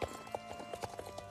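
Horse hooves gallop in a rhythmic clip-clop in the online horse-riding game Star Stable Online, an Icelandic horse at a fast canter with quick, evenly spaced hoofbeats, close and clear with no talk over them.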